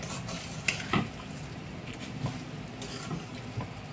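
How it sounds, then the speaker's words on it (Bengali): Rice is stirred and fried in a wok for patol pulao, giving a soft continuous sizzle broken by a few scraping clinks of the spatula against the pan, close and fairly quiet. "কড়াই থেকে দেখুন চালটা যখন এরকম আলাদা হয়ে যাবে আর লাগবে না তলায়, তার মানে চালটা ভাজা হয়ে গেছে।"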